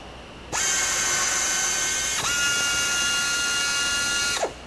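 A small power tapping arm drives a 6-32 tap into stainless steel with a loud, steady high-pitched whine lasting about four seconds, a brief dip partway through and a falling pitch as it stops.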